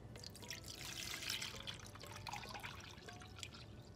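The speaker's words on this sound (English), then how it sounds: "I will go ahead and pour all the milk into this yogurt container." Flax milk poured from a container into a yogurt container, giving a steady liquid trickle and splash at close range that runs continuously with a few drips, with no speech.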